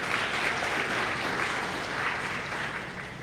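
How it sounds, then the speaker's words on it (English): A crowd applauds steadily throughout at an inauguration ceremony for a new heavy equipment operator training workshop: dense, sustained clapping at even loudness with no voices standing out. "Please, another big round of applause,"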